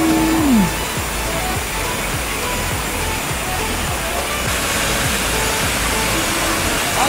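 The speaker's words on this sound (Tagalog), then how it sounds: "tingnan yung tubig na galing sa taas" Steady broadband roar of the waterfall at Dinalungan, Aurora, clean water cascading down from above, loud and continuous throughout with no voices.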